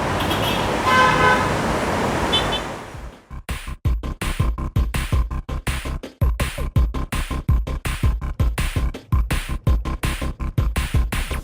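Heavy road traffic in Metro Manila, slowed near a truck accident, with a dense rhythmic run of close, loud car horn toots, many short blasts in quick succession after a few seconds of general engine and road rumble.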